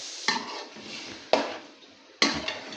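Tomato puree being stirred into achar gosht in a cooking pot, three distinct scraping stirs of a spoon against the pan with a soft sizzle between them, no voices.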